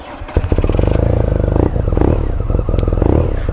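A 2019 BMW R nineT boxer twin fires up close by and settles into a loud, even idle with a steady, throbbing pulse.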